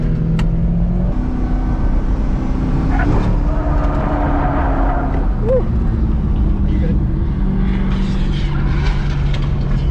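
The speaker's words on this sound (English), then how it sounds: "in second gear, you gotta be in the high RPMs to keep those tires moving." A C6 Corvette drift car's engine drones loudly at high RPM in second gear, a steady roar with shifting pitch that swells and dips throughout, with tire noise and occasional talk underneath.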